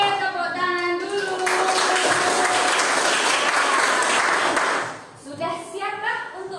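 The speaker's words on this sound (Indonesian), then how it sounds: "Oke, tepuk tangan dulu." A classroom of elementary schoolchildren bursts into lively hand clapping at their teacher's prompt, dense and loud for a few seconds before fading, with children's voices chanting before and after.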